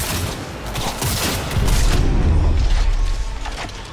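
Loud gunfire and booming impacts in the video game Cyberpunk crackle in fast irregular bursts, with a heavier thudding blast midway through.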